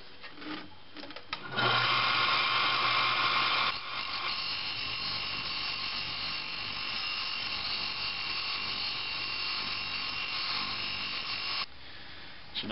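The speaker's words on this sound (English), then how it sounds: "I'm just going to grind the rough edges off the end so it doesn't cut through any of the paracord." A power grinder takes the rough edges off the end of a 3/4 inch rod, a steady high whine that starts after a brief rattle, runs for about ten seconds and cuts off abruptly.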